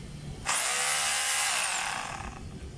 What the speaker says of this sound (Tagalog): gumagana na po yung drill niya